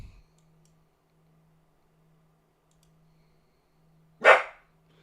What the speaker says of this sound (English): More barks.